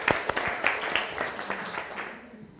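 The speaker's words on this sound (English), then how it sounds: "could we give them a big round of applause?" Applause from a lecture audience honoring kindergarten teachers: a short burst of clapping with a few sharp individual claps, tapering off within about two seconds.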